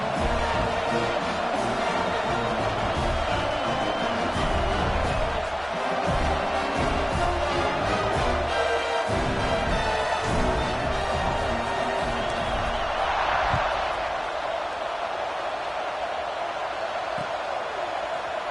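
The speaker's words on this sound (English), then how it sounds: "this crowd is buzzing after that last score" A large football stadium crowd keeps up a continuous roaring buzz after a score in a Michigan game, loud and dense throughout, easing slightly toward the end.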